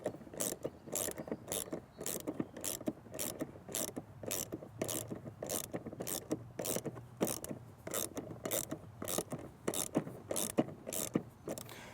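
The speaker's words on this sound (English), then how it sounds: "To reassemble, I'm going to use a regular ratchet and socket." Regular ratchet and socket tightening the blade bolt on a Greenworks 80V electric lawn mower: rapid, steady clicking of the pawl in quick repeated bursts, close up and fairly loud, with no one speaking.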